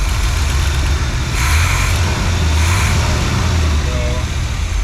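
A barn-find Corvette engine idles steadily and close by, a continuous low rumble with a faint hiss running throughout, brief swells in the middle and no talking.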